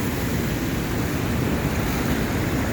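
River water rushing through a narrow rocky chute at rising water level, a steady, loud broadband roar that fills the whole clip without a break, close to the listener, no voices.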